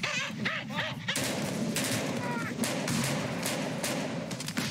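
A burst of gunfire rings out in a rapid volley of sharp cracks, some close and loud and others overlapping, with shouting voices in between.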